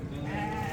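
A sheep bleats at a livestock market, one close, wavering, drawn-out call over a busy background murmur.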